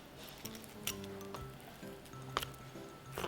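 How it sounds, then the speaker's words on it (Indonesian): A knife crunches through fish bones during filleting, with soft squishy crackles and a few sharper clicks in close, quiet, irregular bursts, and no talking. "kalian bisa dengar suara tulangnya"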